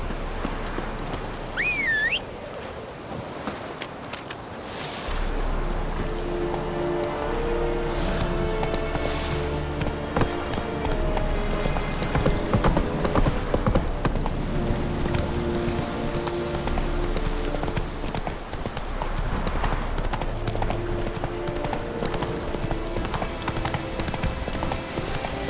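Horse hooves clip-clopping at a steady gallop rhythm in The Witcher 3 video game, a continuous close beat with ambient game sound and a brief rider's shout.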